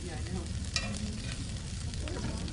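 Food cooking in oil in a pan gives off a soft, steady sizzle at low level. A faint scrape of stirring cuts in once near the start.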